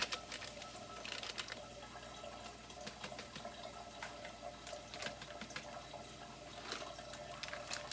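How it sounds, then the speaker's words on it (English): Beef broth pours from pouches into a pot of chicken noodle soup, giving a faint, continuous splashing trickle with a few small clinks in a quiet kitchen. "That's the beef broth going in."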